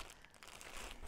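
A plastic bag crinkles close up during a subscription box unboxing, a soft continuous rustle of handling with small crackly bursts throughout, quiet and without speech.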